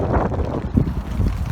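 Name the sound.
strong wind and rain outside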